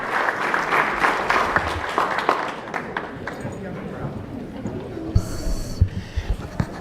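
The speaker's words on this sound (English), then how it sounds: "let's give another round of applause to our CIF champions" An audience at a San Dimas city council meeting applauds a girls' CIF championship team. A burst of clapping lasts a few seconds and then fades into scattered thumps, movement and voices in the room.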